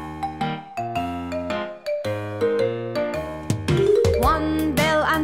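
Bells in a children's nursery rhyme song, sounding as bright repeated melodic notes within a busy musical arrangement that grows fuller and more layered toward the end.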